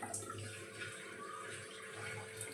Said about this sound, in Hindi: तो मैंने कहा इनको धो लेती हूँ और इनको काट करके